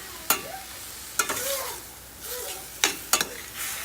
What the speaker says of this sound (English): just for a second to scorch that seasoning onto the cabbage, you guys, and the carrots